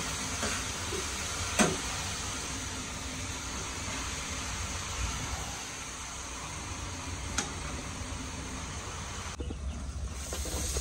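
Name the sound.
rain falling outside a village house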